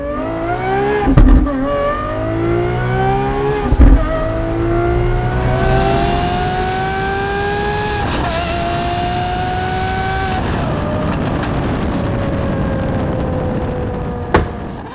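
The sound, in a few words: Lamborghini Aventador SVJ Roadster accelerating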